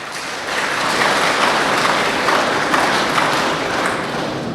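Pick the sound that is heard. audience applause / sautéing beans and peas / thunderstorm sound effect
audience applause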